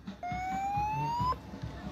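Siren at a football match, a single clear rising electronic wail lasting about a second over a low rumble of crowd and ambient noise.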